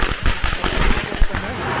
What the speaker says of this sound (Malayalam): ഒപ്പം തന്നെ നല്ല പടക്കൊക്കെ പൊട്ടിച്ച് ഇവർ ഭയങ്കര ആഘോഷമാണ്.